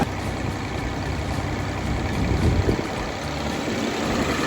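A loud, steady engine drone runs throughout, a heavy diesel rumble from a tractor-driven generator with a constant mechanical hum and no voices.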